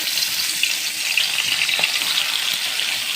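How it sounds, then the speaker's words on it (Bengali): Small tular dari fish, medium-sized, frying in hot oil in a wok, giving a steady, loud, close sizzle that crackles without pause and has a few brief pops. "তেল গরম হয়ে আসছে, এখন আমি সেই তুলার ডেরি মাছগুলো ছেড়ে দেবো একটু একটু করে"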